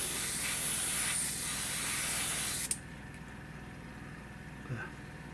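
Spray paint hisses in a steady, close, bright burst for under three seconds, then cuts off abruptly, leaving a quiet low hum with a faint tap near the end.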